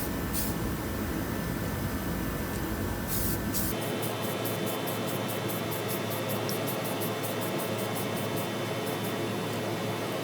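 Spray paint hissing onto a 2008 Chrysler 300C 18 inch rim: loud, continuous close hiss filling the whole clip, changing character partway through, with rapid pulsing bursts as the can is worked around the wheel.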